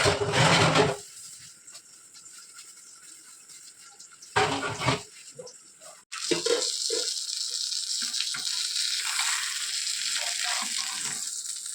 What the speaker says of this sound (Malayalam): അപ്പോഴത്തേക്കും ഞാൻ ആ പാത്രങ്ങളൊക്കെ ഒന്ന് തേച്ച് കഴുകി എടുക്കണേ കേട്ടോ.